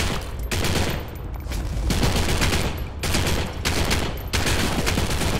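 Dense gunfire from Postal 4 hammers away in continuous bursts for the whole stretch, loud and close, like several automatic weapons letting loose at once with only brief dips between volleys.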